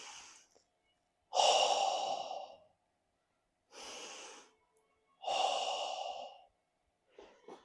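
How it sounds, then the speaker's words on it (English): Deep, slow breaths during a martial arts class, three long airy inhale-exhale cycles close to the microphone with silent pauses between, and a fainter breath at the end. "Inhale."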